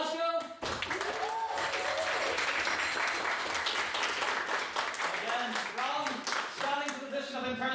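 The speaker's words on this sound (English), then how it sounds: "Applause and spirit" An audience at a student election gives a candidate for Treasurer a sustained round of applause, dense and loud, with cheers and shouted voices mixed into the clapping until it tapers off.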